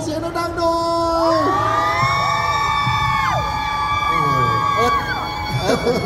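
An audience at a cupcake-decorating stage event shouts and cheers loudly together, a dense burst of whoops and yells from many voices filling several seconds before easing off.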